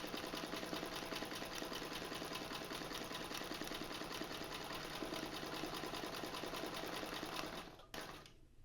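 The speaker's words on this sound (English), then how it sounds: "Then we'll sew over the ends, about halfway over the top." A domestic sewing machine stitching fabric runs close and steady in a continuous rapid mechanical chatter, then stops abruptly near the end.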